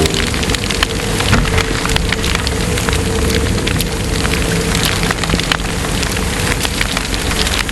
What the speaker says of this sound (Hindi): बारिश हो रही है जोरदार